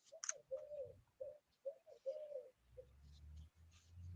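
Woodland pigeons coo in a soft, repeated series of low hoots with short gaps between phrases, heard faintly at a distance in a quiet outdoor setting, joined near the end by a low rumble.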